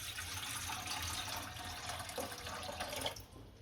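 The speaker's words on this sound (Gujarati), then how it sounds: "અને તપેલી મૂકી છે એમાં થોડુંક પાણી નાખીશું" Water poured from a tap or jug into a cooking pot on a gas stove, a steady rushing splash that runs for several seconds before tapering off near the end.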